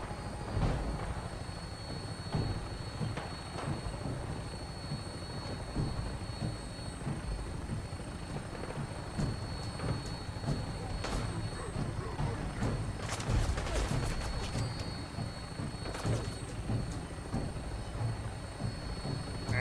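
A video game aircraft with a helicopter-like rotor takes off and flies, giving a steady, loud whirring engine roar throughout, with scattered game effects and occasional voices on top.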